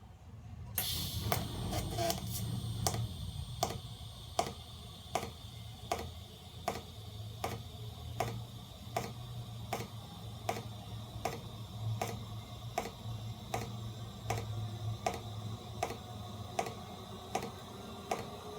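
TIG welding on thin razor blades under extra shielding gas: a steady close buzz broken by a regular ticking pulse, about one tick per second, continuing throughout with no talk.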